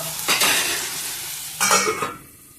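Tomatoes and onions with a pinch of salt cook down in a pan for sambar, a continuous bright sizzle broken by two bursts of stirring.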